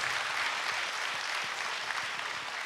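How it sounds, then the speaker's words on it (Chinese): Audience applause at a lecture-hall talk with a photographer, dense sustained clapping from many hands at moderate loudness, steady for nearly three seconds. "热烈掌声"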